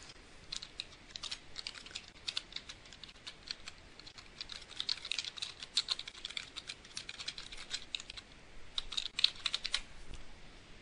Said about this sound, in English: click on the screen and type the words